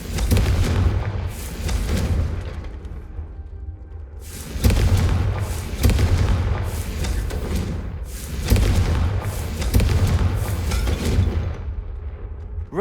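In Hogwarts Legacy, Confringo fire spells detonate again and again as deep, powerful explosions, each bursting sharply and then rolling off into rumble before the next blast lands.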